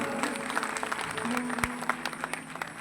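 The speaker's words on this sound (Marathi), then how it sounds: "या आयोजकांसाठी एकदा जोरदार टाळ्या झाला पाहिजे" Applause from the audience for the organizers at a live shahiri kalgi-tura folk performance in a Shivaji Maharaj auditorium, a dense steady wash of clapping with a low tonal hum under it.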